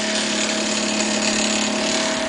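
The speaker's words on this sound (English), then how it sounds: "The clicking you hear is typical of stepper motors because they move in small steps" A CNC sign cutter driven by stepper motors and cutting foam, giving a loud, steady mechanical drone with a constant whine and fast, even clicking pulses, uninterrupted and close.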